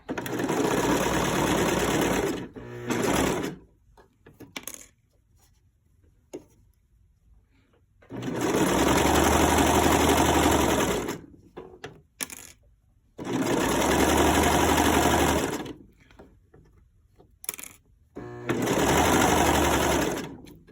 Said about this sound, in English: now I'm going to run a straight serger stitch right down this edge here